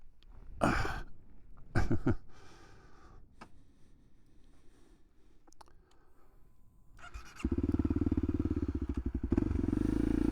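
A Honda CRF 250L motorcycle on green lanes: scattered thumps and clatter come first, then the engine starts up loud and close and runs with a steady throb for the last few seconds.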